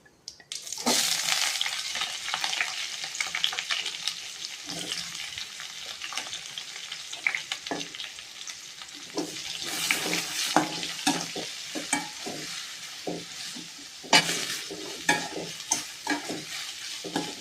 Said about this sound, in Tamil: இப்போ நம்ம வெங்காயம் போட்டுக்கலாம்.